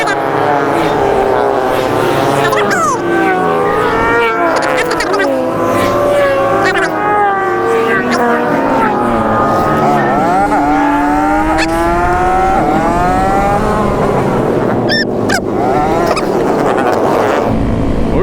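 Group of motorcycles including Honda Groms, cruisers, sport bikes and supermotos riding past in Tampa, engines revving and shifting loudly and continuously up close, with people talking over the noise.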